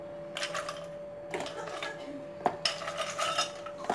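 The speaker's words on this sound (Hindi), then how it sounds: "अब इसके अंदर हमने बहुत सारी बर्फ़ शामिल कर देनी है" Ice is tipped into a blender jar for a watermelon smoothie, making a series of clattering, clinking bursts with a sharp knock partway through, close and fairly loud.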